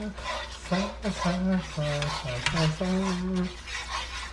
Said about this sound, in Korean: 불을 켜고 양념을 섞어주세요